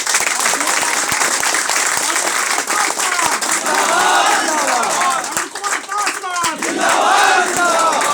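A crowd at an organisational meeting applauds loudly to welcome an honoured guest, sharp close claps layered over a dense roar of clapping, with cheers and shouted voices rising through the middle and end.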